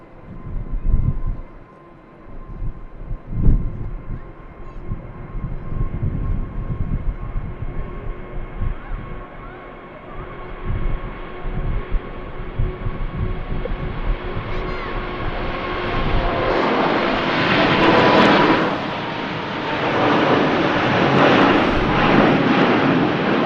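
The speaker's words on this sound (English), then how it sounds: "Very shallow climb out for the Emirates 380 there." An Emirates Airbus A380 climbs out from Manchester Airport on a windy day, its rumbling engine roar building and strengthening in the latter half amid gusty wind noise.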